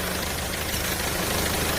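A used Turismo van with a Mercedes-Benz engine and five-speed automatic idles smoothly, a steady close engine drone with a faint rhythmic pulse and no voices.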